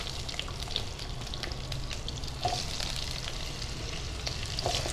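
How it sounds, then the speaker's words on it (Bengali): Potato pieces frying in a pan for a Bengali prawn curry, with a steady close sizzle and crackle and occasional louder pops, and no voices present. "আলু ভাজতে দিয়ে দিচ্ছি"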